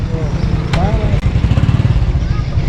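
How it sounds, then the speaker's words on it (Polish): A motorcycle engine runs nearby with a steady, deep rumble, arriving and holding at a low throttle, with faint voices in the background. "I ja podjechałem motorem, więc już na nie czekam."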